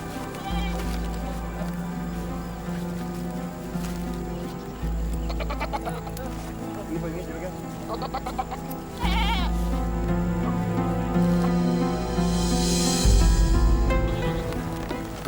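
A herd of goats bleats repeatedly in overlapping calls at varying distances, steady through the scene with farm background noise.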